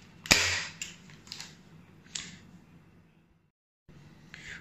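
An airsoft sniper replica bolt, an AW308 Type 96 with an upgraded cylinder, is cocked and fired: one loud sharp crack near the start, then a few softer mechanical clicks and a brief silence before a final click.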